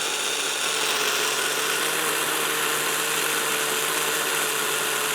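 A Mantua 0-4-0 model locomotive's small electric motor runs steadily, giving a continuous whirring, buzzing drone with a faint hum underneath and no speech.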